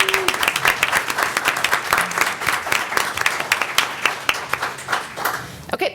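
Steady applause from the audience at a Paducah city commission meeting lasts several seconds with a bright, even crackle of many hands. A faint voice sits under it near the end.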